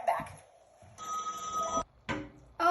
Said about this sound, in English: I apologize for my landline, my telephone ringing.